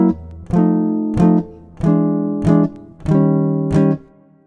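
Five sustained jazz guitar dominant chords, each struck and ringing, stepping downward chromatically with brief gaps between them.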